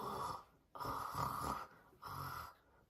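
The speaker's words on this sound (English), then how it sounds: "Peppa, George, Grandpa Pig and Granny Pig are all snoring on the sofa." Cartoon pigs snore on a sofa, three slow rhythmic snoring breaths with nasal snorts, fairly quiet and evenly spaced, with no talking.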